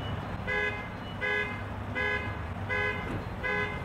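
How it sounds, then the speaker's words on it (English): Car horn honking repeatedly at a gas station, five evenly spaced short blasts over a steady background rumble, moderately loud and nearby, no talking. "While I was filling up gas, a horn started honking quite a bit."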